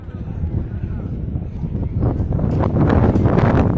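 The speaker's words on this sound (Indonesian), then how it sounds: "Dengan angin yang sangat kencang di siang hari ini." Strong midday wind buffets the microphone with a rough, low rumble that grows louder partway through, with faint rustling underneath.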